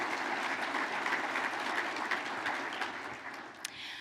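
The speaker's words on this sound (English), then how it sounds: "Let's give them a round of applause." At a regional chamber annual meeting, the audience claps in a continuous, fairly even wash of applause that slowly tapers, with one sharper clap standing out near the close.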